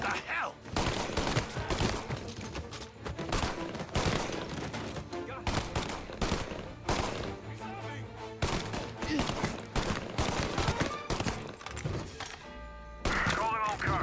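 Gunfire rings out in Mafia: Definitive Edition, rapid bursts and single loud shots with thuds and impacts, repeated irregularly over game music and ambience.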